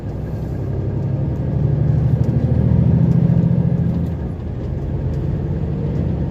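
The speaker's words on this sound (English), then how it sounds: "Car coming flying around there" A car passes on a narrow Italian provincial road, its engine and tyre rumble swelling to a loud peak midway through and then fading, heard alone with no talk.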